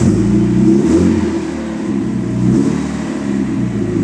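A Dodge Neon stock car engine, freshly repaired after a crash, revs loudly and close by, its low throaty drone rising and falling steadily without any voices.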